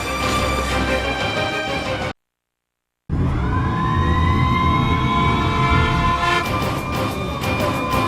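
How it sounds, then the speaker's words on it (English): A loud, sustained electronic alarm siren in the video game Xenoblade Chronicles wails, drops out into a second of silence, then returns and keeps droning with a synthetic edge. "this siren, it sounds different"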